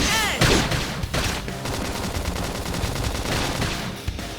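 Rapid gunfire and explosive bursts from combat in Xenoblade Chronicles X, loud and dense throughout, with layered shots and impacts crowding together and a few sharper blasts standing out.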